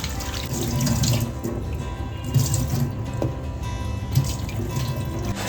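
Kantoli vegetables are washed under a running kitchen tap, with a steady splashing stream of water into a sink and occasional clinks and drips as they are handled, close and continuous without speech.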